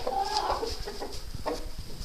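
Brahma hens in a winter coop cluck softly and intermittently at close range over a constant low hiss, with no one talking.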